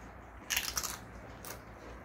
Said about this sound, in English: the chips are pretty nice and crunchy